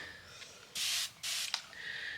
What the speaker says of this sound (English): I love this sprayer because it just sprays. It's like one of those continuous spray things.